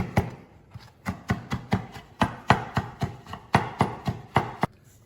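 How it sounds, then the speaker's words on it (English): Knife chopping spinach on a cutting board, about sixteen crisp, evenly paced chops close up, with no talking. "chop it up just a little bit more"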